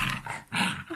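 Small dog growling in short bursts during play-wrestling, close and fairly faint, two rough snarling pulses with a brief gap between.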